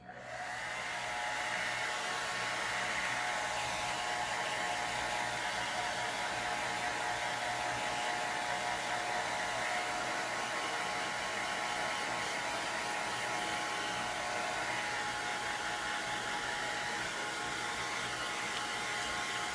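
Hair dryer blowing over wet chalk paste on egg cutouts, a continuous steady whir and airy hiss that starts at once and holds level for the whole stretch, with no talking.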